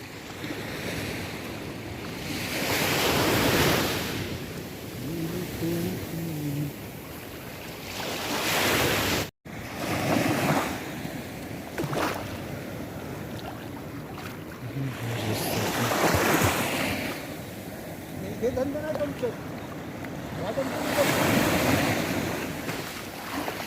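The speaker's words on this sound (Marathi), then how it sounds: "आता अथर्व समुद्रात आंघोळ करण्यासाठी चाललाय" Sea waves roll onto the shore at Mithbav beach, with surges building and breaking in long washes of surf, mixed with gusty wind buffeting the microphone.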